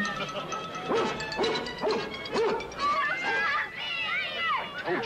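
A dog barks repeatedly in short yips and bow-wows, loud and close, amid a noisy scene where people talk over the barking.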